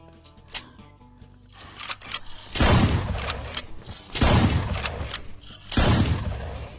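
Shotgun blasts in the Wild West VR game Private Property, with three loud, booming shots spaced about a second and a half apart and lighter clicks and handling noises between them.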